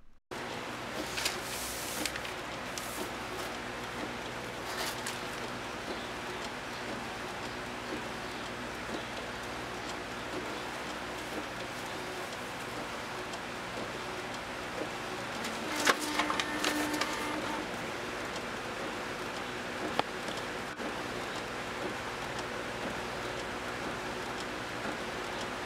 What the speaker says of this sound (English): So let's print a test page.